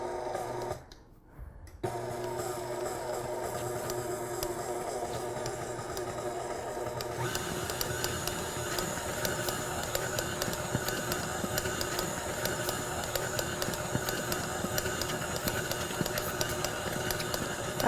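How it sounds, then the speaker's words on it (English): An electric mixer beats crusting buttercream with a steady, motor-driven hum that runs continuously after a brief pause at the start and grows slightly fuller and rougher partway through. "Go, little mixer, go."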